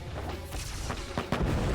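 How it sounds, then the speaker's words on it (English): Explosions and firebending blasts in an Avatar: The Last Airbender episode, several dull booms and sharp bursts arriving irregularly at moderate loudness amid a dense background. "I can hear an explosion happening and all that"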